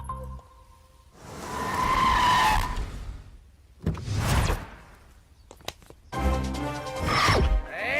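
A car pulls away with tires skidding and squealing in three loud, close bursts separated by brief pauses, engine noise swelling under each slide.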